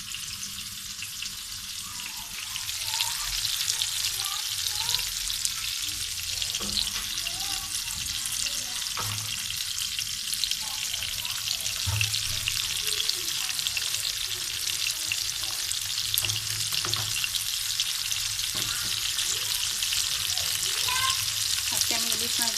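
Hilsa fish frying in a pan for a potol curry gives off a steady, dense sizzle. The hiss grows louder after the first few seconds and holds evenly throughout, with faint stirring and no talking.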